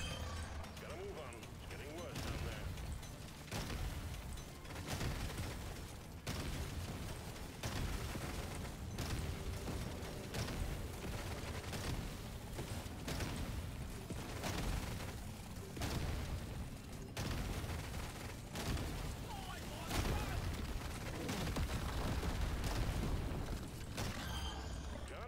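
Dense, continuous barrage of explosions and booms from a sci-fi mining shooter, Deep Rock Galactic: Survivor, with repeated sharp bursts layered over a steady roar of gunfire and game effects at a loud, even level.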